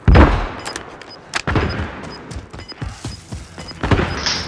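Gunfire in a battle royale shooter video game, with several bursts of shots and sharp bangs scattered across a few seconds amid busy game noise.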